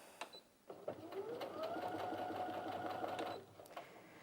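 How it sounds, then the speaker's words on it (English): A Brother Innov-is F560 sewing machine runs slowly while stitching a hem, giving a steady close mechanical whirr of about three seconds between a few soft clicks at the start and end. "So what you would want to do is make a start sewing. I'm just going to slow it down a little bit."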